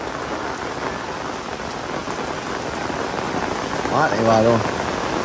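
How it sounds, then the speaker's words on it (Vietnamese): Heavy rain pours steadily and loudly in an outdoor spot at a grave site, a continuous dense hiss, while a voice speaks briefly over it near the end. "mưa lớn luôn quý cô chú chị"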